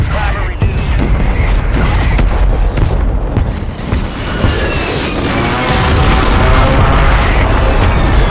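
Mortar strike explosions in Call of Duty Warzone on Urzikstan, a dense loud barrage of deep booms and rumbling blasts rolling one after another, with game voice lines talking over them.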